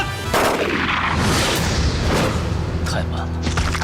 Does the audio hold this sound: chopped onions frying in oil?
no